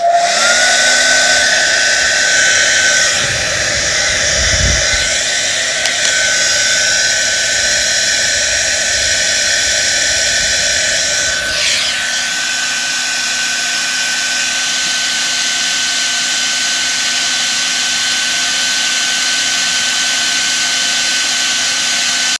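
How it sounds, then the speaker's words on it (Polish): A hair dryer runs at maximum heat and power, a loud, steady close-up whine and rushing airflow that shifts tone partway through and then continues evenly. "Suszarka jest podłączona. Ustawiam na maksymalne grzanie i maksymalną moc."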